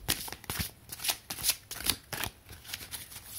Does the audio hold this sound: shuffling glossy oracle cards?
yes